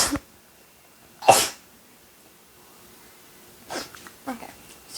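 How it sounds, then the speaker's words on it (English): A single loud, sharp human sneeze bursts out close by near the start of the clip, followed by quieter breathy sniffs and small vocal sounds in an otherwise quiet kitchen. "I'm gonna sneeze."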